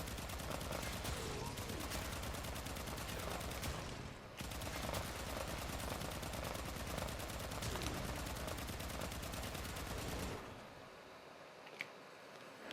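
Rapid, evenly spaced gunshots in the Warframe game form a continuous automatic volley lasting about ten seconds before cutting off into near quiet.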